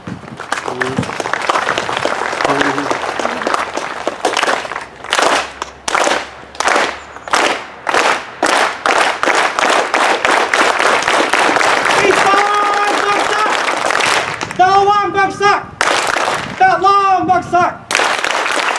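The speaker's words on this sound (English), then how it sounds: "let's try the unity clap" Crowd at an outdoor rally against AAPI hate in Monterey, California, performing a unity clap: loud single claps that start slow and spaced, then quicken into a rapid run, with voices and cheers rising over the final bursts.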